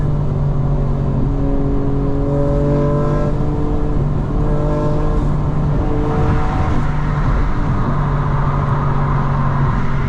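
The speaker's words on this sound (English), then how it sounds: "Just the downshifts are just unreal" A modified 2025 BMW M4 Competition xDrive engine drones loudly and steadily from inside the car, its pitch stepping up and down through gear changes as it blips on downshifts, with no speech.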